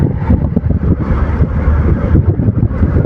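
A strong seashore wind buffets the microphone in loud, rough gusts, a continuous low roaring rumble with no other sounds standing out.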